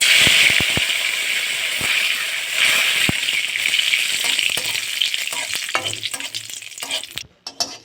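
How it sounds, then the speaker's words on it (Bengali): Neem leaves fry in hot mustard oil in a pan, giving a loud bright sizzle that slowly fades while a few sharp taps and stirs sound close by, with no talk. "তেলটা গরম হয়ে গেছে আমি এবার নিম পাতাগুলো আগে ভেজে নেবো"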